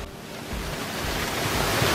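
Steady, loud rushing water roars from the Guéry waterfall near Lac de Guéry in the Mont-Dore area, close by, a dense continuous broadband wash with no voices.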